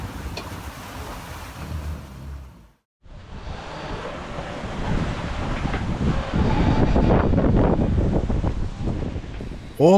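Ocean waves and wind buffet a solo sailboat on rolling seas during an ocean passage, a steady loud rush of surf and wind noise that briefly drops out, then builds stronger and fuller toward the end.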